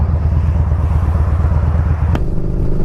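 A 2020 Yamaha Bolt motorcycle engine idles with a loud, steady low rumble close by, with a brief sharp click near the end before the note settles slightly lower.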